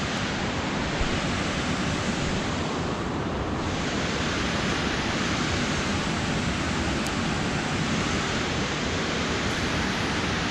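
Water roars over a dam on the Flint River in Michigan, a dense unbroken rush filling the whole clip, loud and close with steady broadband noise and no voices.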